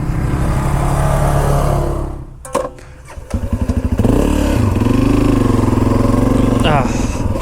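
A CF Moto motorcycle rides past on a desert trail in Arizona, its engine droning loudly, dipping briefly, then returning with a rising rev as it passes close by, with other engine noise running throughout.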